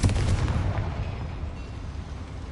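A Confringo blasting-curse explosion in Hogwarts Legacy, a heavy low boom at the start that rumbles and decays over a couple of seconds, loud and close with no talking.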